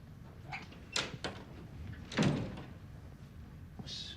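A door closes in a crime drama movie, with a few light handle clicks followed by a solid thunk as it shuts, moderately close, plus faint small knocks around it.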